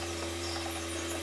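A ratchet clicks in quick succession while tightening the bolts of an AC compressor on a Suzuki Katana, close and fairly quiet over a steady background hum, with no talk.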